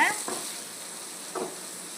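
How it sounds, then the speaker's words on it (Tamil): Onions sautéing in a pan for radish chutney: a continuous close sizzle with a couple of brief scraping stirs from a spoon, and no voices. "வெங்காயம் சேர்த்துட்டு நல்லா வதக்கிடலாம்"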